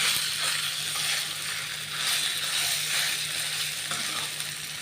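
Boiled flour dough being stirred into an oil tempering in a wide pan, a steady sizzle and hiss with scraping and mixing sounds, fairly close and continuous without talk.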